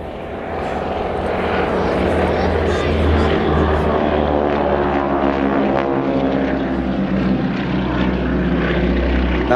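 A propeller biplane flies a wing-walking display at the East Fortune Airshow, its piston engine droning loudly and steadily throughout with a strong low throb, near and continuous.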